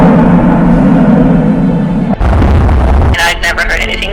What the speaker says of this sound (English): listen to these strange booms that sound almost from another planet